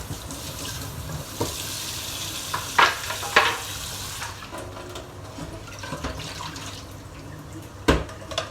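Tuna belly and other ingredients sauté in a home kitchen pan with a soft, continuous sizzle, broken by a few sharp clatters and stirring knocks.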